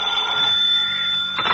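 A telephone rings with a steady trilling electronic bell, loud and close, sounding alone as a radio drama effect before cutting off near the end.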